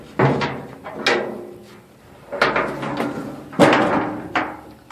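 The heavy metal door of a homemade BBQ cooker is swung shut several times, giving a series of loud, close clanging thuds with short ringing decays and no talking.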